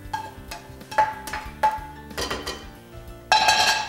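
A spoon stirs sweet potato and onions in a pot, producing a series of close, sharp metallic clinks and scrapes at an uneven rhythm, with no talking.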